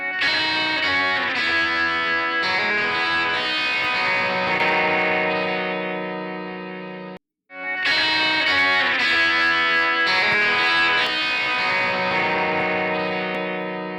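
Full-band music plays through a tape machine plugin's electronics in through mode, dense and sustained with cymbals and layered tones. It cuts out briefly halfway through and then resumes with no talking.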